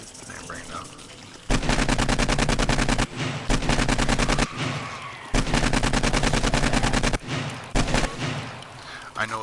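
AK rifle fire in 7 Days to Die on PS4, long loud bursts of rapid automatic shots broken by brief pauses, with speech-like sound faintly present in the gaps.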